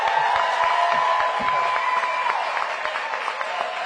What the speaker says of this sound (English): Cheering section.